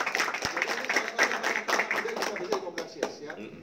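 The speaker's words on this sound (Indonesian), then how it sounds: "Tepuk tangan beliau ya." Audience applause at a distributor training meetup, a brisk scattering of claps from a modest crowd, close and lively, with voices murmuring faintly underneath.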